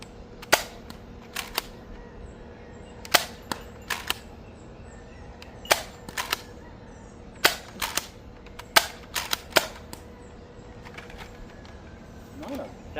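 An Adventure Force Delta Pro Nerf blaster fires nitro darts in a long series of roughly a dozen sharp, snappy shots at irregular intervals, close and loud above a quiet room background.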